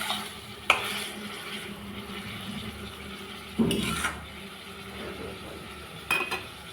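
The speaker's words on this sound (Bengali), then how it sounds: "জল দিয়ে নেড়ে চেড়ে" Taro curry stirred in a pot just after water is added, a soft watery simmer under occasional louder spoon scrapes and clinks against the pot.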